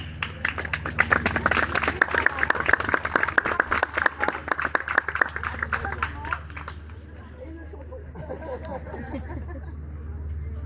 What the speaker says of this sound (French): la petite Flore qui peut applaudir bien fort